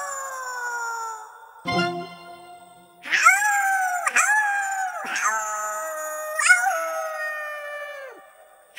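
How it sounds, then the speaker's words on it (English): Several long, rising and falling howls overlap and swell in the night, with breaks between them, standing in for monsters howling at the moon; no talk. "Some monsters howl at the moon in the night."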